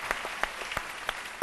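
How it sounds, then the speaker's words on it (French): Studio audience applause on a French midday TV talk show, a short run of steady clapping with several sharp individual claps popping out near the microphone. "On applaudit très fort, Dr Philo."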